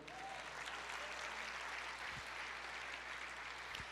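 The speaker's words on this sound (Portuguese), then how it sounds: "Aplauda o Senhor." Steady wash of congregational applause in a church service, a dense continuous patter of many hands heard at a distance, fairly faint and even throughout.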